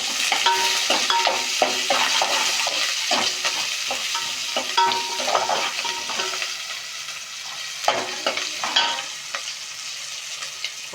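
Onions sizzle in hot oil right after mustard seeds have popped, with steady frying hiss and repeated scraping stirs of a ladle against the pan, fairly close and without voices.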